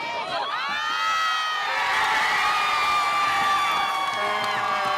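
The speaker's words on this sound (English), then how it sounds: "The crowd cheered as the Matadors posted their 2nd straight 1-0 victory." Crowd cheering and whooping at a women's college soccer game after a 1-0 win, loud and sustained throughout with shrill shouts standing out above the roar.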